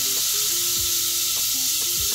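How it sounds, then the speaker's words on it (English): A steak sears in a hot pan with oil, butter, garlic cloves and fresh thyme, giving a loud, steady sizzle and crackle with a few faint clinks and bumps underneath. "Get the steak into the pan. You should be able to hear this sound."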